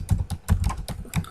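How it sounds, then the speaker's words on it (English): Quick keystrokes clatter on a computer keyboard, about eight close, crisp taps in an uneven rhythm with no voices over them. "So I'm typing some password, so it will turn to the bullet"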